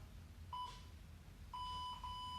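Workout timer buzzer sounding two sets of bright electronic beeps, a short one and then a longer pair, faint over a quiet room with low background hum.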